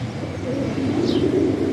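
Pigeon cooing in a loft, a soft low murmur held steady over a faint background, with a brief higher chirp partway through.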